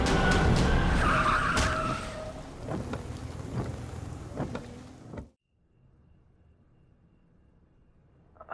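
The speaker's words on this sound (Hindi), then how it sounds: "मैंने ब्रेक लगाया, बट द कार बैंग्ड" A car brakes hard and its tyres skid in a long screech over a rumbling mix, a TV serial sound effect that cuts off abruptly into near silence, with a faint noise at the very end.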